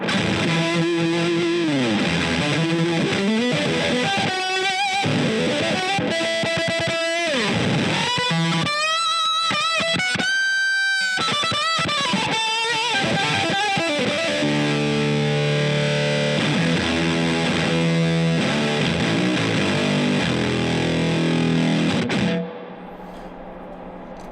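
Heavily distorted electric guitar through an Earthquaker Devices Hoof Reaper fuzz pedal, with fuzzy, saturated tones, sliding notes and sustained chords, loud and continuous before cutting off near the end.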